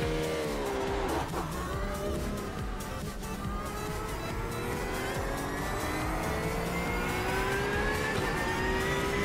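A Porsche 992 Cup race car is driven in the iRacing sim game, its engine revving and shifting continuously through gears with rising and falling pitch, loud and steady throughout with no talk.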